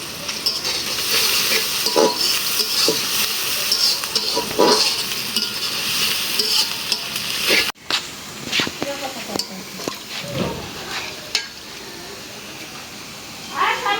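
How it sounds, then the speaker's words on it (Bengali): Onions fry in oil on a clay stove in a village kitchen, giving a constant loud sizzle with occasional stirring scrapes and metal clinks, and a brief drop partway through. "পেঁয়াজ ভাজা হয়ে গেছে এখন মশলা দেওয়ার জন্য"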